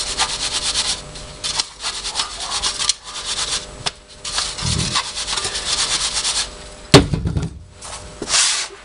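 Backup sand is rammed and packed into a sand casting mould in a home foundry, a series of close scraping, rubbing strokes with dull thumps between them and one sharper knock, no talk.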